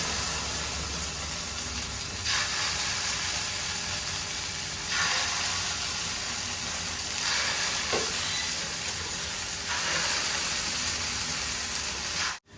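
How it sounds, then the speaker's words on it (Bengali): Food shallow-fried in a little oil gives a steady, fairly loud sizzle with bursts of crackle every few seconds, as if pieces were being stirred or turned in the pan, and no one speaks over it. "ভালো করে মেখে নি বেশি তেল দেব না শ্যালো ফ্রাই করব শ্যালো ফ্রাই"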